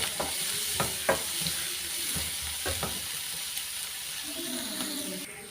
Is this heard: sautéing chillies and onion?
yes